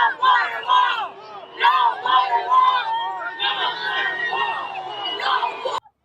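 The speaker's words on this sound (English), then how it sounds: "The crowd began heading back to the original location, chanting and cheering" A large outdoor crowd at a Trump visit to the Rio Grande Valley border in 2019 moves along while chanting and cheering, with loud rhythmic group shouts and whoops rising and falling steadily, close by, until they cut off abruptly near the end.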